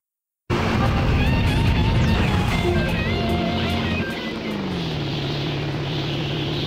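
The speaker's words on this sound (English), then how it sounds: "all that's left is the sound of the wind in your truck's engine" In the video game Excite Truck, a truck hangs airborne as wind and the truck's engine blend into one loud, steady roaring drone that starts abruptly and then eases slightly lower in pitch and level partway through.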